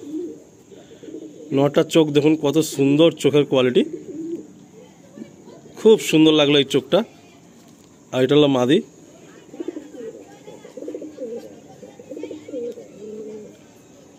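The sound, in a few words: pigeons cooing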